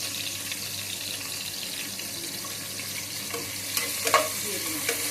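Bay leaf and cinnamon frying in a pan with chopped tomato: a steady, close sizzle throughout, with a few sharper stirring clinks toward the end and no voices.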